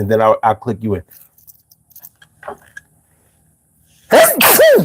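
A person sneezes sharply and loudly near the end, after a stretch of speech and quiet background movement.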